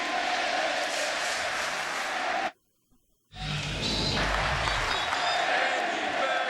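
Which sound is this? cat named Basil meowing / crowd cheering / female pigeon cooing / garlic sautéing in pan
crowd cheering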